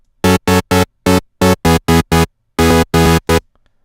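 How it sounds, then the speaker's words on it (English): Synth chords from the standard Serum init preset, a plain saw-wave patch, play loud in a choppy rhythm of about twelve short stabs with brief gaps, alone with no voices. "So the chords just with the standard Serum preset sound like this."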